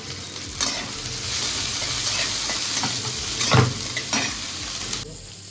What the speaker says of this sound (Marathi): आपल्याला कांदा फ्राय करायचा आहे या तेलामध्ये